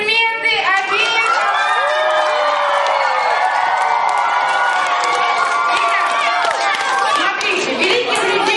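Camp children clap and cheer loudly for two counsellors, a dense, continuous roar of shouting young voices and applause that fills the whole stretch without a pause.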